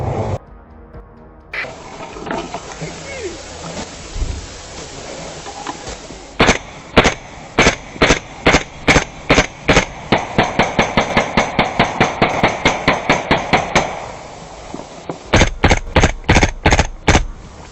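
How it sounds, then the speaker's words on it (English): Gunfire aimed into a bunker on a battlefield in Ukraine: loud, close shots, first single and spaced, then rapid sustained bursts, a short pause, then another fast volley, no speech. "a Ukrainian soldier deployed a grenade into the bunker and applied controlled fire toward the interior"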